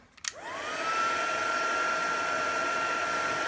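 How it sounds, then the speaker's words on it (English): A heat embossing heat tool clicks on and spins up, its blower whine rising quickly to a steady, sustained high tone with airy rush that continues close and unbroken. "grab my heat tool again"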